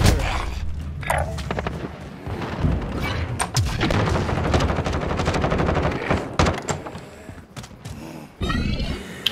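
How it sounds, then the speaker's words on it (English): Gunfire in a shooter video game rattles in dense bursts of rapid shots and booms, loud and close, with brief pauses between volleys. "shooting on him now"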